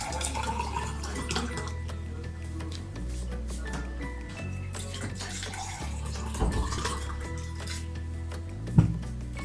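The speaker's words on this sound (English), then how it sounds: "the first step is to pour the water into the glass up till half" Water pours steadily into a glass with a gentle bubbling gurgle over a low background hum, ending with a faint clink.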